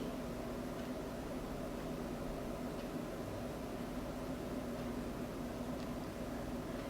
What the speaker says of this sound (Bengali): গুঁড়া মশলাটা দেওয়ার পর আমরা এই টুকরোগুলো সরিষার তেলের সাথে একটু ভুনে নিচ্ছি